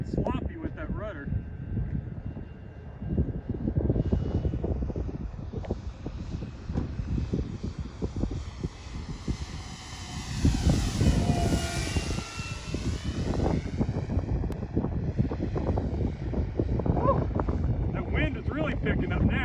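A VQ/Nexa 107-inch RC model Pilatus PC-6 Turbo Porter drones through the air, its engine note rising and sweeping past mid-way over wind buffeting, while people talk throughout.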